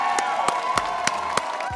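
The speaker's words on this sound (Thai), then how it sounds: "ขอเสียงปรบมือดังๆให้กับโชว์จากแซลมอนครับ" A crowd claps and cheers after a performance on a Thai kids' talent show, with steady dense applause and a few sharp louder claps standing out, heard loud and close throughout.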